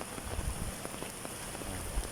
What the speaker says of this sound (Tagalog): Sa ngayon, umuulan pa rin siya.